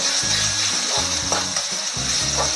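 Masala with a spoonful of soy sauce being stirred in a pan for fried rice, a steady hiss of frying under rhythmic scraping strokes and a few metallic clinks, close and without voices.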